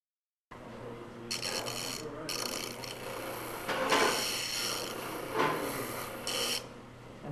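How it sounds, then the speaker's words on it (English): Wood reindeer cutout being sanded on a spindle sander, a steady close rasping whir with several louder bursts as the workpiece is pressed against the spindle, no talk. "And then again, more sanding here with the spindle sander."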